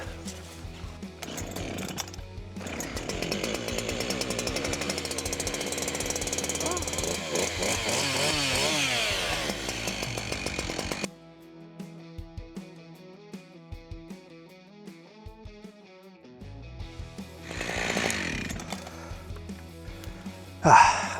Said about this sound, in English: Really wish I brought the right chain for this chainsaw.